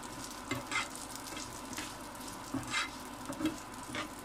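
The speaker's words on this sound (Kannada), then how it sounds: "ಅದೇ ತುಪ್ಪದಲ್ಲಿ ನಾನು ಫ್ರೈ ಮಾಡಿದ್ದೀನಿ" Vermicelli frying in ghee alongside cashews while being stirred, a soft steady sizzle with occasional quiet scraping strokes, fairly faint and close.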